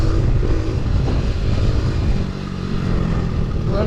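A mini stunt bike engine holds a steady, loud, close drone while the rider keeps it up on a wheelie, the sound continuous for the whole stretch without any talk over it.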